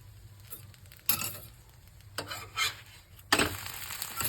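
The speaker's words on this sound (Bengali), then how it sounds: "এবার একটু ভালো করে একটু ভেজে নেবো" Egg roll frying in a pan, a low sizzle broken by several bursts of scraping and stirring noise with light utensil clinks, close and fairly quiet, no voices.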